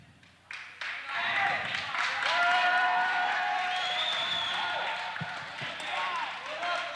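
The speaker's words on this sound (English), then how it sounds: "the East members of the audience are cheering on their teammates" A gymnasium audience at a 1985 boys' high school gymnastics meet cheers and applauds, a sustained wash of clapping and shouting voices that rises quickly and holds, with a couple of thumps near the end.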